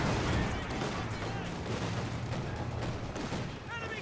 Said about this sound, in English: Bit of correction machine gun fire, mortar landing as well.